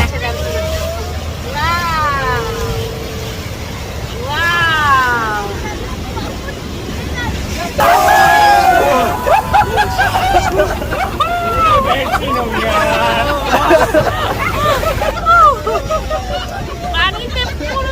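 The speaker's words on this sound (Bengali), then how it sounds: "এখন সবার চিৎকার শোনা যাবে আর শুধু পানি আর পানি।" Crowd of passengers on a boat near Rhine Falls, Switzerland, shouting and screaming together over rushing water, wind buffeting and a boat engine; the yells swell louder from midway and continue in dense overlapping bursts.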